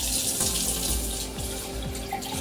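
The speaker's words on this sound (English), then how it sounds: "we're going to add some more water because we need to cover it" Tap water pours steadily into a cooking pot for beer-braised ribs, a close, continuous splashing gush with no talk over it.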